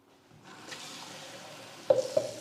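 Water is poured into bread dough in a kitchen, a short, soft rush of trickling liquid that begins quietly and ends with a couple of small splashy knocks.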